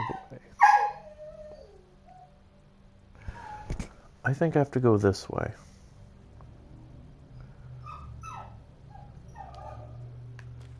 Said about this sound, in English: she'll keep barking, by the way.